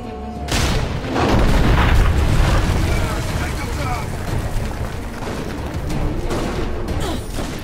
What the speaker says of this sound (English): Roderick, we're going to fire the cannon.